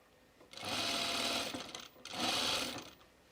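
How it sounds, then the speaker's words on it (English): A sewing machine stitches a side seam in two steady whirring runs separated by a brief pause, close and moderately loud with no talk. "The longest, slowest side seam sewing ever."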